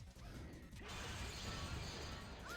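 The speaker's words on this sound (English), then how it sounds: "I love this glass smashing sound effect" Glass smashing effect in a Sonic video game, a sudden crash that spills into a dense, sustained shattering wash of debris over mechanical clatter, loud and close for a couple of seconds.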